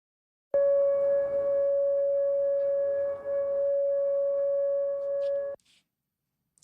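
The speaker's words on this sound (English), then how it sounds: "I want you to listen to what it sounded like when some of the sirens started going off" Tornado warning siren sounding in Arkansas after a tornado, a steady electronic tone holding for about five seconds with a brief dip midway, then stopping, followed by faint noise.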